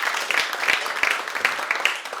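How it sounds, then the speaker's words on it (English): Audience applause for a live performance at the Star and Shadow, steady dense clapping from a modest crowd throughout, with a few louder individual claps standing out. "So, big round of applause for Sean and Joe."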